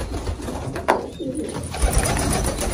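Pigeons coo steadily inside a pigeon loft, low soft calls running throughout at moderate distance, with a brief wing flutter or rustle in the middle and faint background movement.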